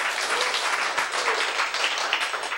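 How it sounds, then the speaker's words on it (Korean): Audience applause at a Korean spiritual healing lecture, a steady crowd of clapping hands held at even loudness for a few seconds, no voices over it. "박수!"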